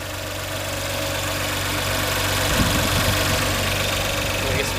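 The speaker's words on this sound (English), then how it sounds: "about to give us some sound clips from the engine" A 2019 Audi RS5 coupé's twin-turbo 2.9-liter V6 idles close by in a steady, even rumble with a slight rise in level midway.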